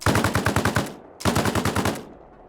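Rear gunner's machine gun in Arma Reforger fires two long sustained bursts of rapid, evenly spaced rounds, loud and close, separated by a short pause, with no talk.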